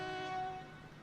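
A train in the video game Transport Fever 2 sounds a short, steady horn tone that fades slightly toward the end, heard alone over a low rumble.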